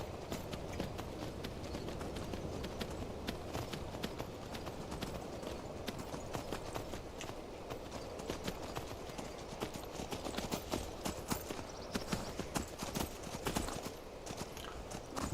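Horse hooves clip-clopping steadily at a run during riding through snow-covered hills in the video game Skyrim, a continuous rhythmic drumming that stays fairly even and close throughout.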